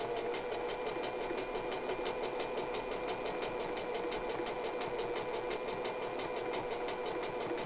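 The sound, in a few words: sewing machine stitching a face mask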